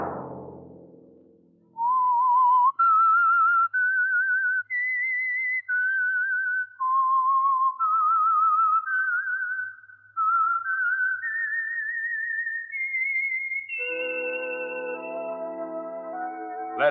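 A lone whistler carries a bright, melodic theme tune for a 1950 radio drama, sustained notes stepping up and down, clear and close, ending on a held chord-like tone.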